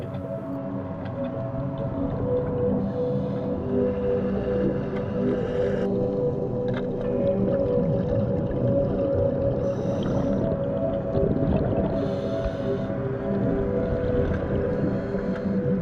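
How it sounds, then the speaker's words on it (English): Whales sing underwater, long tonal moans and rising wails that ring steadily through a constant low rumble for the whole stretch, with no voices over them. "if there is one sound underwater that can be really scary, especially now, then it is the singing of whales."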